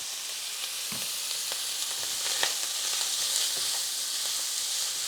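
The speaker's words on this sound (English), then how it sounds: "I think I'm going to toss in some oil so I can saute our peppers and onions as well" Sausage, peppers and onions sautéing in oil in a pan, producing a bright, constant sizzle with scattered pops and crackles, close and unaccompanied by talk.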